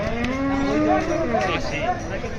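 A cow moos repeatedly in long, wavering calls at a busy pre-Eid cattle market in Hazratpur, Bangladesh, loud and close over crowd murmur.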